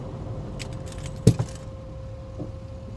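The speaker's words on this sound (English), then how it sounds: "Knocked my keys on the floor." A single jangling clatter of keys hitting the floor, brief and close, over a steady low engine hum inside a 1988 Land Rover Defender with an LS engine swap, during a hard brake test at 30 mph.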